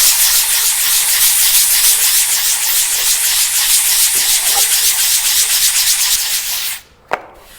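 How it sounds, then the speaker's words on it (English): Hand sanding of wood with sandpaper: a steady, close, loud rasping rub that continues evenly for several seconds, then stops briefly and ends with a single sharp knock. "what you would do if you're sanding by hand is you would do circles"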